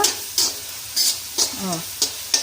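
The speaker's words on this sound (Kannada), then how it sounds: "ನೋಡಿ ಜಿಂಜರ್ ಗಾರ್ಲಿಕ್ಕು ಸ್ವಲ್ಪ ಹಸಿ ವಾಸನೆ ಹೋಗೋವರೆಗೂ ಹುರ್ಕೊಳ್ತಾ ಇದ್ದೀನಿ." Ginger and garlic frying in a pan for Indian-style spicy pasta, with a soft steady sizzle broken by repeated loud scraping stirs, about five strokes in a couple of seconds, close and clear.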